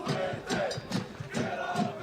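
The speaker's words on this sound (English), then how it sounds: "The crowd cheering, urging them on" A rugby crowd at a schoolboy 2nd XV final between Rotorua Boys' High and Tauranga Boys' College chants and roars in a steady rhythmic pulse of loud, massed voices, about two beats per second, with no commentary over it.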